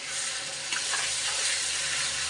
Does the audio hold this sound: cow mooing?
no